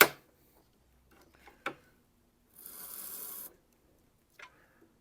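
A fish filleting knife, a Martini, is sharpened at 11 degrees on a Tormek grinder, giving a brief soft grinding rasp along the bevel between quiet ticks and clicks, close and fairly faint.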